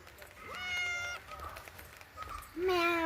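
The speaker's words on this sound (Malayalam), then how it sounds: "ഇവിടെ ഒരു പൂച്ചയൊക്കെ ഉണ്ട് കേട്ടോ" A pet cat named Appu meowing at home, two drawn-out cries a couple of seconds apart, fairly close, with quiet background noise between.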